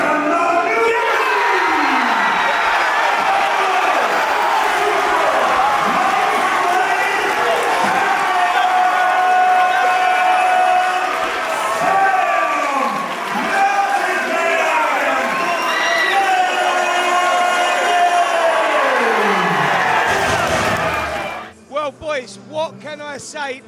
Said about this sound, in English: It's what the crowd want to see. And you can hear it right now.